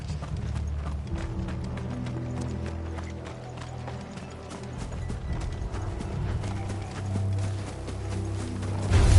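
Steady clopping of horse hooves in the video game Final Fantasy 16, over a low rumbling background, with faint mechanical clicks and an occasional whinny, continuous throughout.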